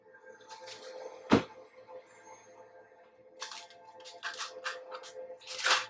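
Tarot cards being shuffled by hand, soft riffling bursts separated by quiet gaps, with a sharp snap near the start and a cluster of brisk shuffles toward the end.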